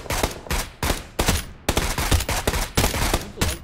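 Dense automatic gunfire from PUBG Battlegrounds in rapid, loud bursts with brief gaps, close and continuous, the shots cracking one after another.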